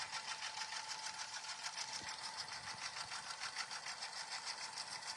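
A sewing machine stitching with pink thread gives off a faint, steady mechanical whir and rapid needle chatter, unbroken throughout, with no voices.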